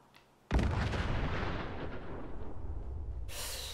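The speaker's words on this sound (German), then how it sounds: "Ich glaube, da ist ein Auto explodiert." In the video game Fallout 4, after a brief quiet moment, a car explodes in a sudden loud blast that rumbles on, slowly fading, before a sharp hissing noise cuts in at the end.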